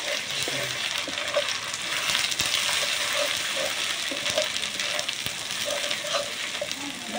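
Masala with two spoons of turmeric frying in a pan for duck curry, a steady close sizzle with scattered crackles and occasional stirring scrapes, no talk.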